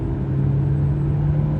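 The 140-horsepower engine of a Mitsubishi ASX hybrid gives a loud, deep, steady rumble as it revs briefly and evenly, with no talking.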